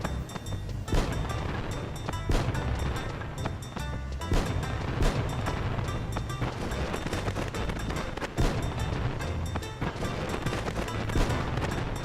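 Dense, continuous fireworks explosions in the video game Final Fantasy XI at Port Bastock, a loud barrage of overlapping booms and crackles lasting throughout with no speech.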